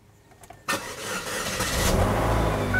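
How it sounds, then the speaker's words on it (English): A car that was dead, with a possible battery or starter fault, is started: a sharp crank catches and the engine settles into a steady, loud idle, close and alone. "Now I'm going to get in there and start this car"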